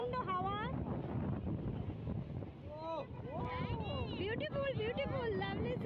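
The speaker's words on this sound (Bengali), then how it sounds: "আজকে প্রচণ্ড হাওয়া।" Strong wind gusts steadily across the seashore at Kanyakumari, where three seas meet and big waves are rolling in, making a loud, continuous roar while voices talk over it.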